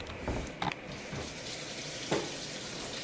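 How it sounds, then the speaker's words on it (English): Tap water runs steadily in a kitchen sink to rinse rice. It makes a continuous soft rush with a couple of brief louder splashes, and no one speaks. "One thing you want to do is wash the rice."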